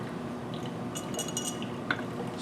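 A glass flask of organic solution holding magnesium sulfate drying agent is swirled, giving a few light glassy clinks and a faint sloshing over steady room hum.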